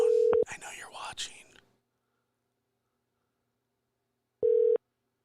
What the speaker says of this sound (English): I'm calling to mess with him.